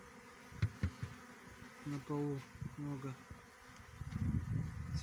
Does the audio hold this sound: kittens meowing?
no